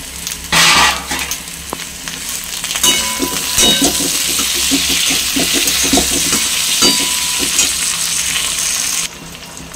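Fish frying in hot oil with onions, a loud close sizzle punctuated by clanking stirs of a utensil against the pan, then a brief quieter stretch at the end.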